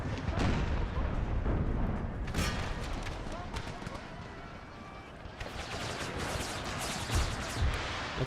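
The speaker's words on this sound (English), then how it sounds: "Okay, all cannons, stop firing" Rapid booming cannon blasts and gunfire crackle throughout a battle in the video game Empire: Total War, dense and loud, with a brief lull before the barrage picks up again.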